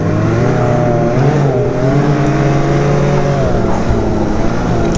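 Loud, steady engine drone of a Ski-Doo 900 Ace Turbo four-stroke snowmobile riding along a trail, with slight pitch shifts as the throttle varies and no voices.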